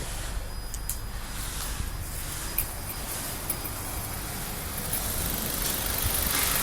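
A 2.5 Nissan Altima engine with factory exhaust idles with a steady, low, fairly quiet rumble, continuous and even throughout, with no voices.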